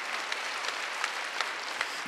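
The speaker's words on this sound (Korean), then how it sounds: "박수 한번 주세요" Church congregation applauding during a Wednesday worship service, a dense, even patter of many hands clapping at moderate distance, continuous throughout without speech.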